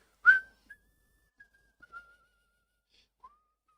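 A person whistles a few short, faint notes after one sharp opening note. The phrases are separated by gaps, and the whistling is heard alone, with no talking.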